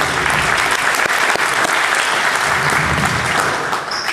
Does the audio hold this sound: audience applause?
yes